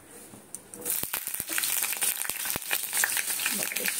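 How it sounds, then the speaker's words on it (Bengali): Mustard oil heats in a pan and breaks into a loud, bright sizzle with sharp crackling pops, continuous and close after a brief quieter start. "সর্ষের তেলটা যে একটু গরম হয়ে যাবে"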